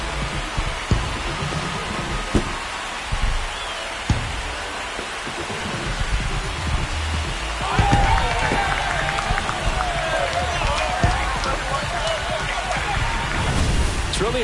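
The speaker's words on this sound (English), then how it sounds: "This crowd has really come alive." Loud baseball stadium crowd roaring and cheering, a steady wall of voices that swells louder partway through, heard at a distance without clear speech.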